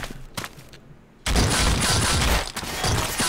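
Sniper gunfire in a sci-fi video game mission: a few sharp shots at first, then a loud sustained roaring blast of fire that drops out briefly and returns.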